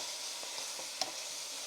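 Beef soup ingredients stirred in a pot for a vegetable beef caldo de res, with soft scraping and a faint simmering sizzle under steady background noise and one brief clink near the middle.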